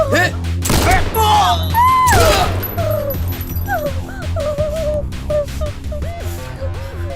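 Loud, sharp gunshot blasts ring out early in a Hindi dubbed action film, followed by overlapping voices and a dramatic soundtrack.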